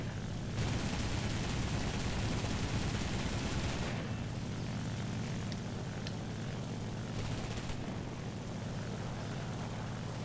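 Droning propeller engine of an Italian fighter plane in an air combat video game, a steady loud roar with broadband rushing noise and bursts of gunfire layered in partway through.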